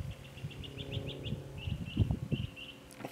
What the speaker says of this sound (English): hear that bird in the background?